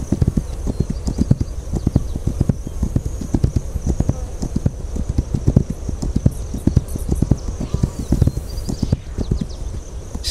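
Horse hooves clip-clopping in the video game This Land Is My Land, a loud, steady walking rhythm of clear hoof knocks close up, with a faint high tone behind it.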